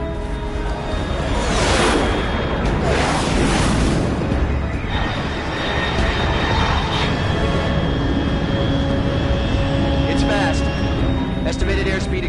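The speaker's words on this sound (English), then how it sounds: "Control, unidentified aircraft detected" A jet aircraft from the Metal Gear Solid 3 video game roars overhead in a loud, sustained rush, with whooshing peaks early on and then a steady engine drone with tonal whine, while a voice speaks throughout.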